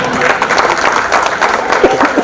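Applause from an audience at an award programme in Mumbai, a dense steady patter of many hands clapping throughout, fairly loud, with a few voices mixed in.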